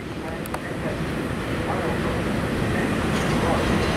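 A CSX intermodal freight train rolls past close by, a loud, continuous broadband rumble and wheel roar that holds steady throughout with no break.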